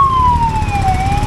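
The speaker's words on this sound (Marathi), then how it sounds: "डोंट वरी, ॲम्ब्युलन्स नाही आहे, पोलीस आहे. तिथले पोलीस फार सायरन वाजवत बोंबलत फिरत असतात." Police vehicle siren in Ladakh, a loud continuous wail sweeping slowly downward over steady road and engine rumble, with no talking.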